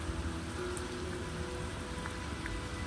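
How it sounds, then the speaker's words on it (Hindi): Heavy rain pours down outdoors onto a flooded road, a dense, even hiss with scattered drop impacts and no voices. "तब देखूँ तो बाहर इतनी कैडी बारिश"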